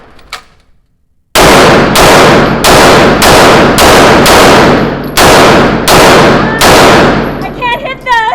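Pistol fired at targets, about nine loud sharp shots in a steady rhythm roughly every half second, very close, with ringing reverberation after each, then a voice speaking briefly at the end.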